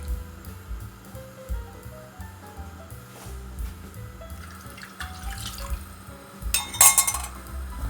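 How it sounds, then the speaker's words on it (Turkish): Water poured into a pot for making couscous pasta, a close, continuous trickle and splash with light clinks of metal and glass, ending in a louder gush, with no voices. "koydum iki ölçek su"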